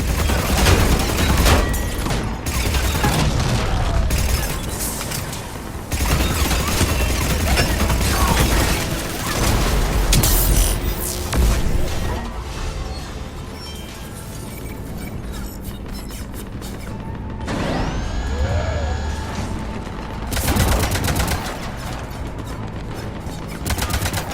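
Heavy cannons fire again and again in the video game Mass Effect 3 Legendary Edition during the Omega recapture mission. The loud, dense volleys of booming shots run almost nonstop, with brief lulls and a few mechanical whines between bursts.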